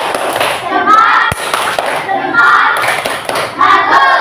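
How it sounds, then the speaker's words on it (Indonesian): A classroom of fourth-grade children does a rhythmic thumb-clap cheer, bursts of hand claps and thuds mixed with kids' voices and chanting, close and lively. "Tepuk jempol."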